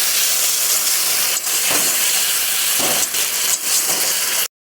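Chopped tomato and ground spice paste sizzle steadily in a hot pan with a splash of water while cooking with potatoes and drumsticks, a loud continuous hiss with a few brief dips, cutting off abruptly at the end.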